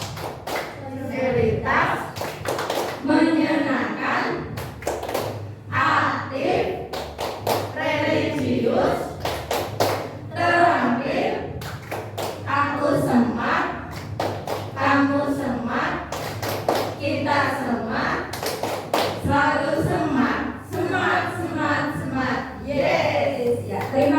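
A school group at SD 1 Bumi Rejo performs the tepuk semangat chant, with steady rhythmic clapping in repeated bursts under loud, continuous chanting voices throughout.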